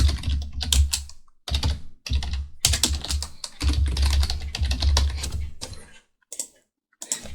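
Computer keyboard typing an email address, with quick clusters of close key clicks broken by brief pauses, then a few isolated taps near the end.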